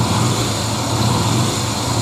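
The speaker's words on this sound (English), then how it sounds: "Rev it up." A Yamaha XV125 Virago motorcycle engine, just fitted with a new battery during a voltage regulator repair, runs loud and steady up close, holding a constant drone with no speech over it.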